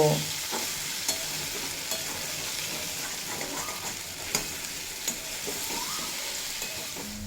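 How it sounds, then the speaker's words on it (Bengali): Young jackfruit fries in oil over low to medium flame, a steady sizzle broken by scattered stirring scrapes and occasional knocks of the spoon against the pan, close and alone. "লো টু মিডিয়াম ফ্লেমে রেখে সাত আট মিনিট মতো ভেজে নেব"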